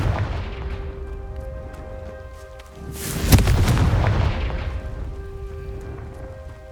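A Confringo fire spell explodes in the Hogwarts Legacy video game. One sharp, loud blast lands midway and is followed by a rumbling, crackling decay over a background of game ambience.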